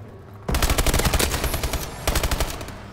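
Rapid automatic gunfire in the video game Call of Duty Advanced Warfare, two loud sustained bursts of evenly spaced shots separated by a brief lull.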